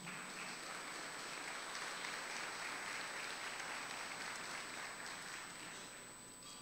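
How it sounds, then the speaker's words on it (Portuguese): A church congregation gives a round of applause, heard as a faint, distant, even patter of many hands, much like rain, holding steady before easing slightly at the end. "Uma salva de palmas ao Senhor."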